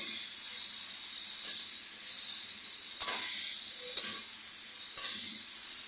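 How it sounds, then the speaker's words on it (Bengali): Boneless meat fries in a pan for homemade noodles, giving a steady bright sizzle with soft stirring scrapes and a few sharp clicks spaced about a second apart; no one speaks. "তারপর আমি আরেকটু ভেজে নিই।"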